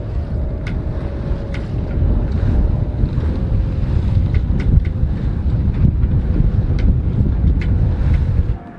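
A sailboat under way in the wind, with steady rushing wind buffeting the microphone, water washing along the hull and a few faint creaks and clicks from the rigging, ending abruptly.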